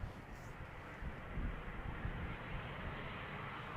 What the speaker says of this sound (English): Atlas Air, Boeing 747-400 freighter. Inbound from Miami, Florida